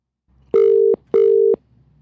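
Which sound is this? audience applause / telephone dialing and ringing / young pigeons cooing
telephone dialing and ringing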